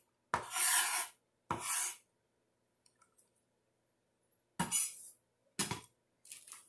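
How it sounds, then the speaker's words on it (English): A knife dicing ham, heard as several separate rasping, scraping cuts in short bursts with pauses between them, close and dry, with no talk. "And then I'll dice the ham."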